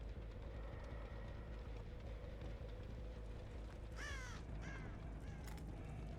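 Crows cawing in the Dead by Daylight video game, a few distinct harsh caws in two short bursts over a steady low ambient drone, no voices.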